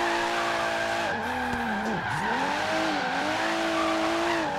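Tires of a Chevrolet Omega 4.1 turbo screeching while drifting in Forza Horizon 3, a steady, loud, wailing squeal that bends up and down in pitch over a continuous engine roar.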